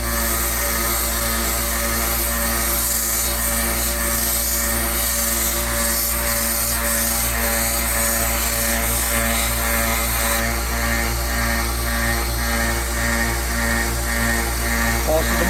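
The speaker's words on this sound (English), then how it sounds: "But you can also go to the belt sander." Belt sander running steadily while hammers are pressed against the belt for polishing, a loud continuous motor hum with rasping, rubbing grinding layered over it for the whole stretch.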